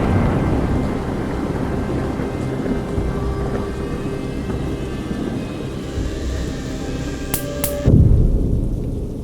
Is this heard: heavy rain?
yes